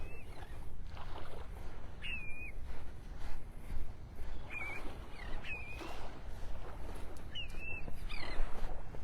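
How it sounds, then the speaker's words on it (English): Willet calling on a beach at Delnor-Wiggins in North Naples, Florida, several short, sharp, high calls spaced a few seconds apart, faint and distant over steady surf and wind. "That was the call of a willet bird."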